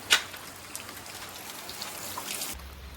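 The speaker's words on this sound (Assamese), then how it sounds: "চাওক বৰষুণ আগৰ পৰা আৰু" Steady rain falls at night in Kaziranga, a dense continuous patter of drops on surfaces with a brief sharper splash near the start, moderately quiet and without voices.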